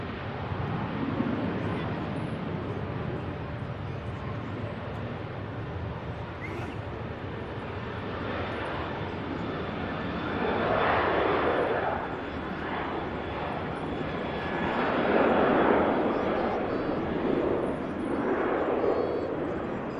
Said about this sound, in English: There goes the TUI. This aircraft's off to Corfu, 737.